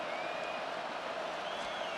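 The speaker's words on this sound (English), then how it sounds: "This crowd turning up the decibel level" A dense, steady crowd roar fills a football stadium during a Madden NFL 26 game between the Miami Dolphins and the Buffalo Bills. It is a constant wash of noise that holds at the same loudness throughout, with no clear single voices.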